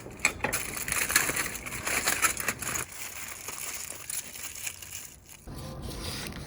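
A knife cuts a rested roast cooked on a Weber kettle grill in half. Close, crunchy crackling and rustling come in bursts, then turn quieter and more scattered.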